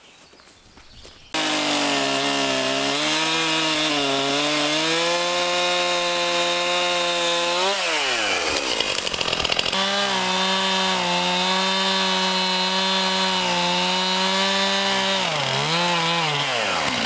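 A chainsaw cuts wood while clearing a fence line for new pasture, its engine screaming loud and close at a steady high pitch, dipping briefly twice as the chain bites into the wood, with no talking.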